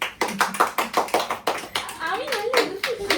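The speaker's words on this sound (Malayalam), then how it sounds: "കയ്യടി" A small group claps in quick rhythmic bursts for Meenakshi, close and lively, with a voice and other chatter rising over the final second.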